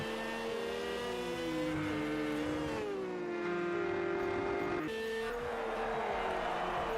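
Porsche and McLaren GT3 race cars in Project Cars 3 roar continuously, their engine notes rising and falling through gear changes as several cars battle closely for position, loud and steady throughout.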